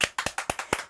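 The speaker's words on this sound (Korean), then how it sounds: "박수 한번 칠게요." A single person claps quickly by hand, about seven sharp claps in an even fast rhythm, close and fairly loud with no talking over them.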